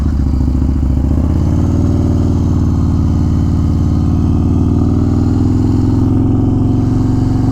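A 2021 Harley-Davidson Street Bob 114 with a 6-speed transmission and stage 3 tune, ridden on the road: a loud, steady, deep V-twin rumble with a throbbing rhythm, close and continuous throughout.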